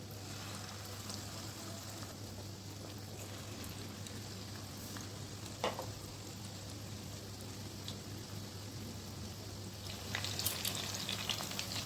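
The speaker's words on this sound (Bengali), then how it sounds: "এবার আমি চিকেন স্যাটেটা দিয়ে ভেজে নিচ্ছি।" Battered chicken satay pieces frying in hot oil in a kadai give off a steady, close, even sizzle with faint crackles over a low background hum.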